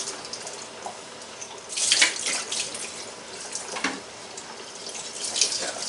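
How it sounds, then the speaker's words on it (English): Hot tap water runs over pre-rinsed pasta in a kitchen sink, a steady splashing rush with louder gushes around the middle and end, close by and without talk. "I just basically just throw hot water over it."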